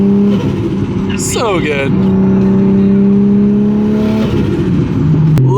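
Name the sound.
750whp Toyota JZX100 Chaser engine revving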